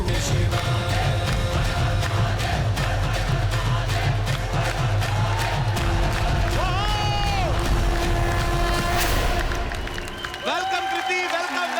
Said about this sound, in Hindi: जोरदार तालियां कृति के लिए और हमारे साथी कलाकारों के लिए।